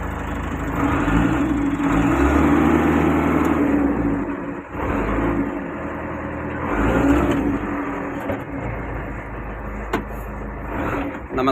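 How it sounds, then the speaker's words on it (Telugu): A loading vehicle's engine runs and revs up close, a loud, rough rumble that rises and dips in several surges before easing off, with no talk over it. "ముందుగా స్టార్ట్ చేసేద్దాం శివ స్టార్ట్ అయితే అయిపోయింది బండి"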